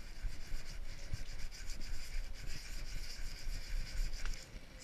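Steady back-and-forth rasping of sandpaper smoothing a piece of wood by hand, close and continuous with an uneven rhythmic scrubbing texture.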